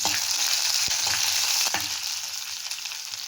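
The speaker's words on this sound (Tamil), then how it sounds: "ஃப்ரெஷ்ஷான கருவேப்பிலை போட்டுட்டு கொஞ்சம் நேரம் வதக்கி விடுவோம்" Ginger and fresh curry leaves sauté in hot oil for tomato dosa, giving a steady close sizzle with a couple of brief stirring knocks and no talking.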